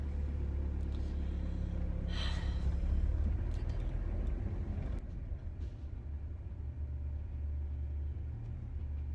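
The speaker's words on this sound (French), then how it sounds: "je suis toujours derrière ce camion poubelle." A garbage truck rumbles along the road just ahead, a low, steady engine drone heard from behind in traffic, with a brief brighter mechanical whine midway before it settles back.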